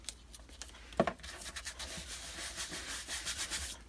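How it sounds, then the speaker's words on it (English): Glue stick rubbed along a paper edge during papercraft pocket making, a close, continuous scraping rub with a sharp knock near the start, steady strokes with no voices. "So just give that a bit of a glue with the glue stick."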